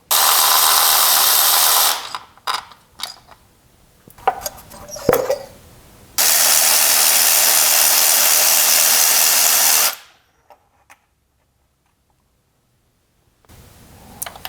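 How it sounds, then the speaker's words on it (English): A power tool with a 10mm socket removes an ignition coil screw on a Kia 2.4L GDI engine, two long steady high whirs separated by clinks and rattles of handled parts, then near silence with a few faint taps. "get your 10mm socket, remove the screw, pull off the coil"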